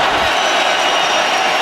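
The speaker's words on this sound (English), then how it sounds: "Crowd is loud here in Miami Gardens for this 3rd down and 3." Steady roar of a loud football stadium crowd in Miami Gardens on third down, Tennessee Titans at Miami Dolphins, a dense continuous wash of noise from many voices at constant high level.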